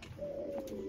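A Chinese teddy pigeon gives a single short, low coo, close and fairly quiet, with no voices over it.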